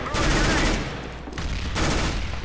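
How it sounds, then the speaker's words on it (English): Flashbang grenade going off in Counter-Strike: Global Offensive, two loud, harsh bursts of noise in quick succession that fill the short moment. "Throw in the flashbang!"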